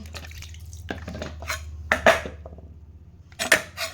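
A bonti blade and wooden seat are rinsed after cutting fish, with sparse close clanks, knocks and splashes of water in short bursts separated by quiet gaps.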